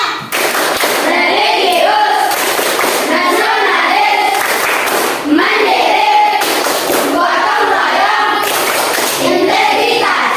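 Schoolchildren in a classroom perform a rhythmic group clapping routine, sharp unison claps in repeated patterned bursts with brief pauses, loud and close, with children's voices chanting along.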